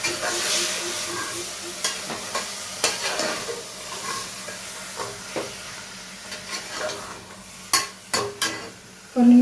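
Mutton pieces frying and being stirred in a pan for a kurma gravy, a steady sizzle broken by scraping stirring strokes and a few sharp clatters of the spoon against the pan near the end.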